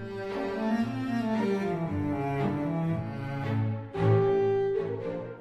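Sampled solo cello part built with a mosaic technique, a legato melodic line of sustained bowed notes in a low register, playing alone without talk.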